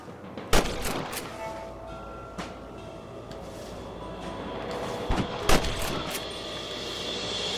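A shootout in Red Dead Redemption, set beside a train, brings scattered loud gunshots, one early, one midway and a quick pair late, over a steady rolling rumble of railcars.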